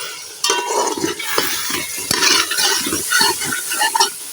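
Chicken with masala fries and is stirred in a pan for pulao, with a spoon scraping and clinking against the metal in irregular strokes over a steady close sizzle.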